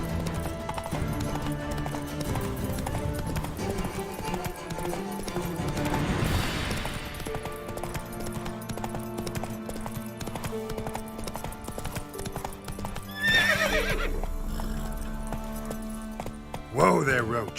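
Roach, a horse in The Witcher 3, gallops with quick rhythmic hoofbeats under game music, with a brief neigh and some voices.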